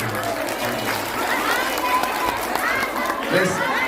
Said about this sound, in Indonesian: Tepuk tangan untuk saudara-saudara kita ini